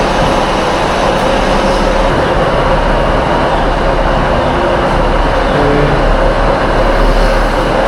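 Small two-coach ScotRail train near Dumfries in Scotland, a steady loud rumble and rattle of the carriage heard from inside, continuous throughout without talk.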